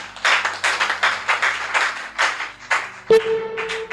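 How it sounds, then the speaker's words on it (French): Congregation at a church finance talk clapping in a steady rhythmic beat, roughly a dozen loud, evenly spaced claps, with a brief bright ringing tone entering near the end. "Je pense qu'on peut applaudir le Parent Céleste."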